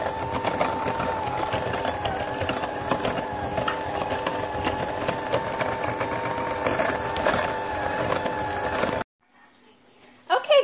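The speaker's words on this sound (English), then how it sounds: "I'm going to mix now. Cream my sugar and my margarine together." An electric kitchen mixer whirs steadily as it creams sugar and margarine for chocolate chip cookie dough, a close, continuous motorized hum with faint clatter that cuts off near the end.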